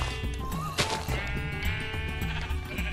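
Sheep in the video game Minecraft bleat clearly in the foreground over a dense, steady bed of game sound, with one louder, sharper bleat standing out near the middle.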